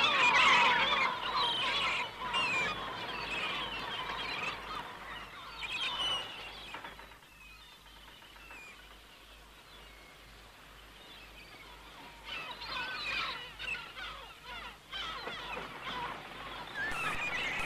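A flock of geese honks in flight at sea, with overlapping calls that are loud at first, fade in the middle and rise again toward the end, over a steady low rumble.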